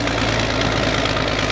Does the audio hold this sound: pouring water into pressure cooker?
no